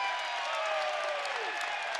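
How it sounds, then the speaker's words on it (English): Basketball crowd at a college game cheering and applauding a foul call, a steady, moderately loud arena roar of clapping and voices with an announcer's speech faintly underneath. "And you hear this crowd. They like that one."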